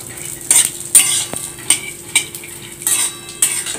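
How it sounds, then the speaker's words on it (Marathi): Peanuts dry-roasting in a pan are stirred steadily, producing close, bright scraping and rattling strokes at irregular intervals about every half second over a low background hiss. "तर शेंगदाणे याच्यात टाकायचे आणि छान याला हलवत राहायचं सतत"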